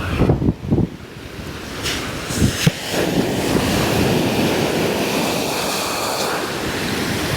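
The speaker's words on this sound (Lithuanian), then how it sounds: "Žaidžia bangos." Sea waves break and wash onto a beach, a few sharp gusts of wind hitting the microphone at first, then a continuous loud roar of surf.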